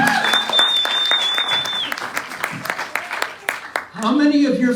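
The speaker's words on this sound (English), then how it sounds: "A round of applause, please." Applause from an audience at a public testimony session on corporate money in agriculture, with rapid clapping swelling over several seconds; a voice speaks through the middle of it.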